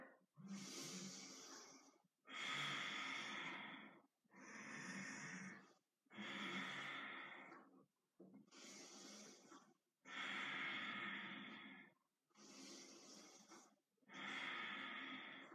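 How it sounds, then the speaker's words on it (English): Slow, deep breathing during seated chi kung practice: eight long inhale-exhale cycles, each about two seconds, separated by brief pauses, close and fairly loud with an airy, hissing texture and no talking. "Inhale, exhale."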